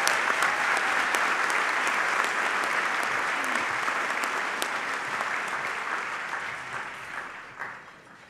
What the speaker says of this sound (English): If you would give them a great round of applause.